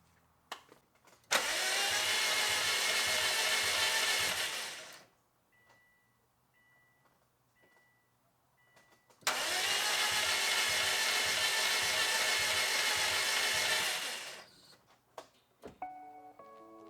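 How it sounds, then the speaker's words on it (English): An engine with no compression on multiple cylinders cranked by its starter in two long bursts of about four seconds each, a steady fast whirring churn with a pause between, with faint clicks before, between and after. "Now let me try to crank it and see what it does."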